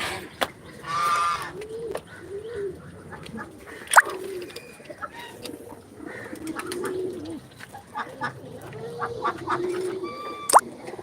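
Pigeons coo repeatedly at close range in low, soft rolling calls, mixed with sharper chirps and a few higher bird calls scattered across the stretch.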